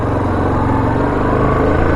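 A Yamaha Grizzly 700 ATV engine runs loud and steady at high throttle, a constant mechanical roar with no pauses and no voices.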